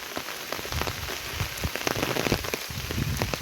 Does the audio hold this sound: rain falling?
yes